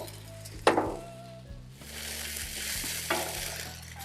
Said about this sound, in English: It's time to throw our garlic in there.